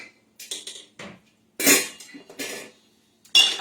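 Cooked pasta tipped into a metal colander in the kitchen, producing several clattering, scraping bursts of varied loudness, close by with short quiet gaps between them.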